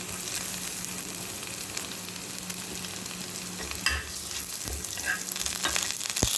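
Chopped garlic frying in oil with dried red chili, a steady bright sizzle up close, punctuated by a few stirring taps and scrapes toward the end.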